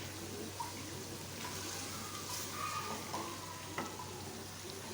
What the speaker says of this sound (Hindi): मसाला सारा भून गया।